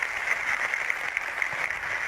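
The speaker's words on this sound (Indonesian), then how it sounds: "Tepuk tangan buat bunda yang pertama" An audience at a religious talk gives a steady patter of applause that sounds thin and somewhat distant, holding evenly for about two seconds without voices.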